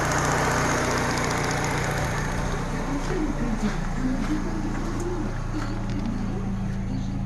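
A Peugeot 308 SW with a 1.6 petrol engine, one troubled by a fourth-cylinder misfire and oil burning, idles with a steady low hum while pigeons coo nearby over the engine drone.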